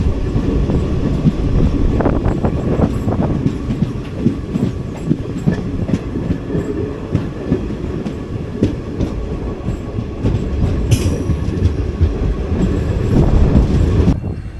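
A Madurai–Guruvayur Express pulled by a diesel locomotive runs along the tracks, with a steady close rumble, rhythmic wheel clatter and brief metallic squeals near the end.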